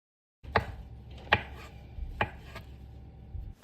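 Knife chopping mushrooms on a board for a salad: three distinct sharp chops spaced roughly a second apart, close and clear, with quiet scraping between them and no talk.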